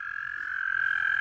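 Toads calling near the start of mating season: a steady, continuous high trilling croak, loud and close, holding without a break through the whole stretch, with faint low rumbling beneath and no voices.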